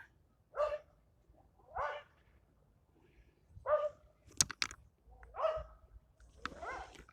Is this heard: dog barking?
yes